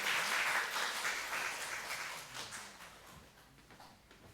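Church congregation applauding together, a dense steady patter of many hands that starts full and gradually thins and fades toward the end.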